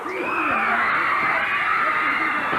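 A wrestling crowd roars with loud, sustained cheering and high-pitched shouts and whoops, a dense wall of voices without pause.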